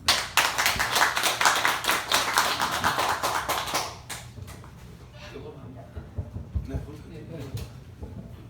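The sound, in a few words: audience applause welcoming a lecturer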